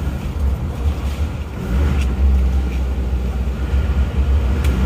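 Diesel car engine with a freshly overhauled liner, new rings and seals runs under way on a test drive, a steady low rumbling drone from inside the cabin with slight swells in revs, no voices.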